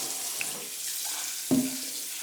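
Water runs from a tap into the pot of an electric rice cooker as it is washed out, a soft steady trickle with one brief splash near the end.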